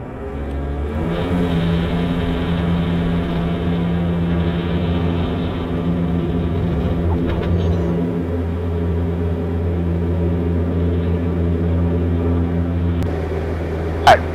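Diamond DA40 light aircraft engine during the takeoff roll, a steady loud droning hum with strong low tones that holds throughout, with a brief click near the end and no talk.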